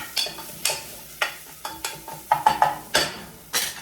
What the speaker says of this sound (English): Stir this around.